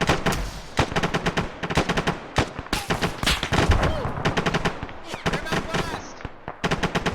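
Gunfire in the military shooter ArmA aimed at a BTR armored vehicle, rapid irregular shots and bursts, loud and close, with voices calling out between them.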